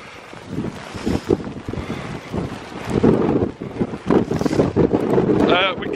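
Strong wind blowing across an outdoor B-29 Superfortress crash site, gusty roaring and microphone buffeting that surge and fade, with a person speaking in between.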